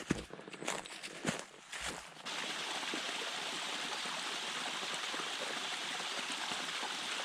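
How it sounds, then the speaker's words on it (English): Waterfalls on Coley Creek along the Foothills Trail give a steady broadband rush of falling water that fills most of the clip, after opening moments of footsteps and handling noise close by. "Nice little shot of the waterfalls here at the creek."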